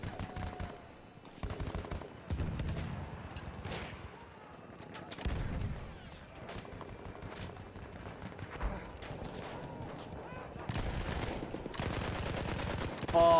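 Rapid machine-gun fire and scattered gunshots in Battlefield 1 multiplayer, dense bursts and fusillades repeating over several seconds, loud and close, with some talk mixed underneath.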